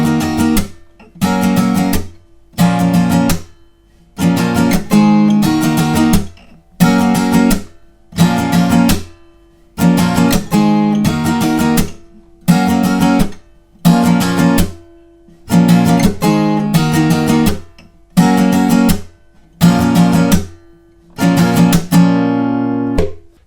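Acoustic guitar strums the chorus of a song in loud, evenly spaced chord bursts separated by short gaps. The rhythmic pattern repeats steadily for over twenty seconds with no voice.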